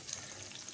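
Ground onion frying with ginger garlic paste in a pan, a faint, brief, soft sizzle with no talk.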